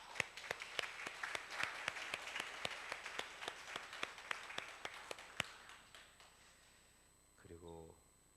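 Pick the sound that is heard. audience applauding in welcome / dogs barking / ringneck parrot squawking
audience applauding in welcome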